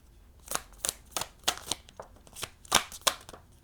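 Tarot cards are shuffled by hand in quick riffling bursts, about ten crisp rustling flutters in close succession, near and clear in a quiet room.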